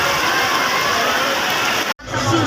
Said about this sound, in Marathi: कसा काय पाऊस आहे इधर.